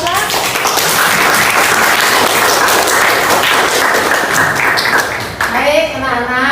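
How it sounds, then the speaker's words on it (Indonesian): A classroom of students breaks into loud, sustained applause, dense clapping that fills the room without pause and fades slightly near the end as a voice begins. "Beri aplaus."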